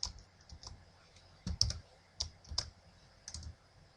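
Quiet, close clicks of someone typing on a computer keyboard while entering a spreadsheet formula, irregular single keystrokes and short clusters separated by brief pauses.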